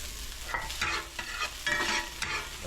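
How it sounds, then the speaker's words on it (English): Garlic and chopped onion hit hot oil in a pan, giving a close sizzle with uneven bursts and soft stirring scrapes over about three seconds, no voices. "now I'll go ahead and put some garlic in there. Add a little bit of onion."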